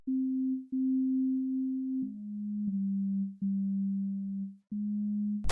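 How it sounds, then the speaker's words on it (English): A soft, bassy sine-wave synth patch built in Serum from its basic-shapes wavetable plays a string of sustained low notes, each cleanly separated, with a slight step down in pitch partway through. "Then we have this soft bassy sound that I made on Serum"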